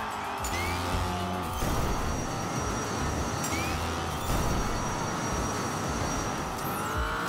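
A toy race car speeds along a track in Hot Wheels Unleashed, a continuous loud engine whine with shifting pitch and occasional whooshes, with no voices.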